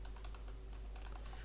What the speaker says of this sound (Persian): من یوزرنیم و پسوردم رو تایپ میکنم